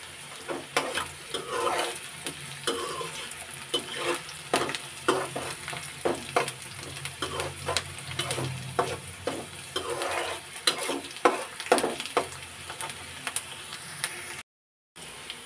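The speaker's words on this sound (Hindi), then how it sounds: "प्याज को सिर्फ हमें इतना ही फ्राई करना है" Onions frying and being stirred in a pan while making aloo patties, a steady close sizzle broken by repeated scraping stir strokes, no talking.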